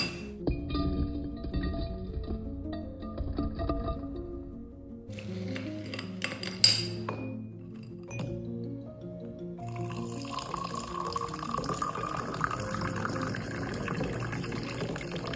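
Frozen amla and ginger juice cubes clink and knock against a glass as they drop into water, with a sharp clink near the middle and light liquid sloshing throughout, no speech.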